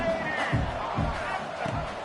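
A football stadium crowd roars in a broad, continuous wash of noise, with a few louder swells, while a voice talks over it.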